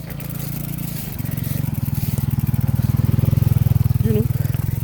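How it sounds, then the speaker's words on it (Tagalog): Motorcycle engine on a mountain trail near a camping spot, a close, loud pulsing putter that swells as it draws near, with people talking over it. "May motor, may motor."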